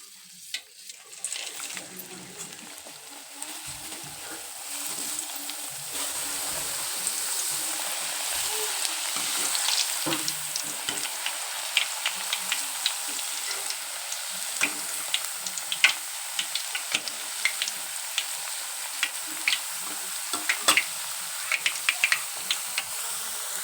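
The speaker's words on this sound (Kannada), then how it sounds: "ಈಗ ಅವನಿಷ್ಟು ಒಂದೊಂದು ಹಾಕಿ ಎಣ್ಣೆ ಕರಿಬೇಕ್ರಿ" Potato slices for crisp homemade chips deep-frying in hot oil, a sustained bubbling sizzle that grows steadily denser, with scattered sharp pops and occasional stirring sounds close by.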